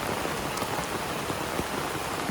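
Heavy rain pours onto a camping tent beside a river, a dense, loud, unbroken patter of drops drumming on the fabric.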